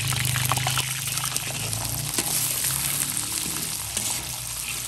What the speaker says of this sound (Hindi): तो ये इसमें अब हम ये ड्राई फ्रूट जो लिए हैं इनको फ्राई करें।